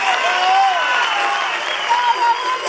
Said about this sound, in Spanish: Gracias, un fuerte aplauso.